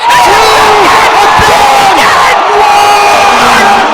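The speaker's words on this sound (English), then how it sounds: "the crowd on its feet, the crowd roaring inside the Fieldhouse" Football crowd on its feet roaring inside the Fieldhouse at an A7FL championship game between Tampa Nightcrawlers and Las Vegas Insomniacs, loud continuous cheering with whoops, shouts and bellowing voices rising over the din.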